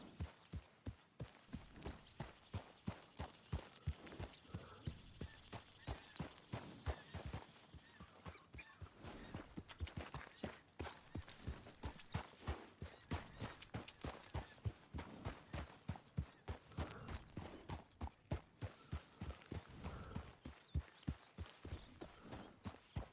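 A horse galloping in Red Dead Redemption 2, with steady, rapid hoofbeats thudding at a close, even rhythm for the whole stretch. There is no talk, and a faint background bed sits beneath the hooves.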